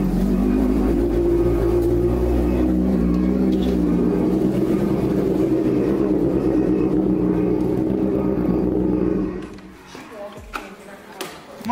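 A Honda Hornet motorcycle engine runs loud and close with a steady, throaty roar that drops away near the end, while people talk over it.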